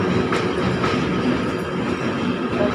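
An electric train rolls past at a Mumbai railway station, a loud continuous rumble with rhythmic clatter of wheels over the rails and faint squeals above it.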